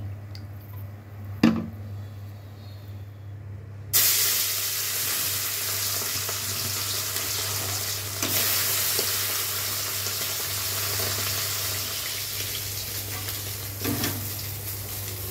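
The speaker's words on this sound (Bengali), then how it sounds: "মাছ ভাজাটা হয়ে গেছে" Tengra fish sizzles steadily in mustard oil, a loud continuous frying hiss that jumps in strength after a few seconds and carries on with faint stirring clicks, no voices over it.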